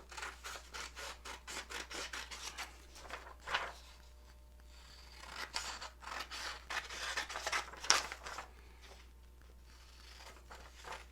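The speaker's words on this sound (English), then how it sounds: "So I will cut it out and I will show you what you need." Scissors cut a paper graphic organizer, making repeated quiet snipping and rustling strokes in short bursts with brief pauses, close and alone over a low steady hum.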